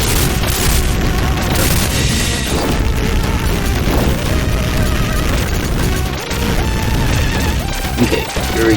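Dense, loud game audio from Contra: Hard Corps fills the whole stretch, with rapid gunfire, crashing impacts and booming explosions piled over a driving soundtrack and no pauses.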